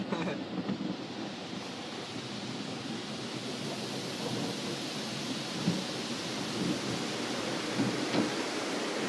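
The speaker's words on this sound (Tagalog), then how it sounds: "it's raining" Rain falls steadily outdoors with a broad continuous wash of noise and soft low rumbles that suggest distant thunder, heard close and fairly loud without any talking.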